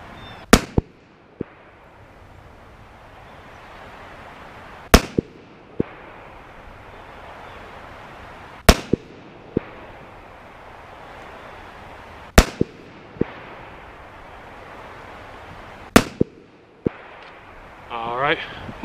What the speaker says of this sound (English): This is a very, very nice shooting little gun